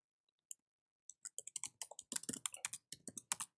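Quiet start, then a single click followed by a dense run of crisp keyboard typing and mouse clicks at a desk while setting up a Jupyter notebook, close and fairly loud with no talking.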